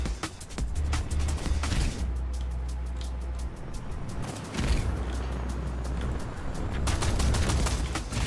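Weapon fire in Tribes 3 Rivals: repeated sharp shots in bursts, loud and close, with pauses between volleys and a low mechanical rumble underneath.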